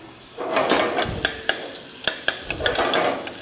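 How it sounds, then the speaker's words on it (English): Onion and a couple cloves of garlic sweat in a little whole butter in a pan, a soft sizzle broken by repeated sharp clicks and taps of a utensil against the pan, close and with no talking. "So we're just gonna sweat out, just in a little bit of whole butter, the onion, a couple cloves of garlic."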